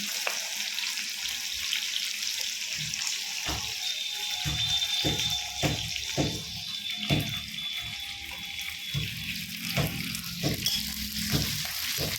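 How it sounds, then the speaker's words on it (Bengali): Spices fry in hot oil for a duck curry, a steady crackling sizzle broken by repeated clinks and scrapes of stirring, close and fairly loud throughout. "এটা তেল গরম হচ্ছে, তেল গরমের পরে মশলা যাবে এখানে।"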